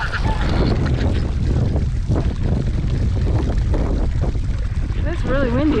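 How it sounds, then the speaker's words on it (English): Strong wind blows across a farm with ducks, a loud continuous rumbling buffet on the microphone, with a few honking bird calls breaking through near the end. "It's really windy out here though."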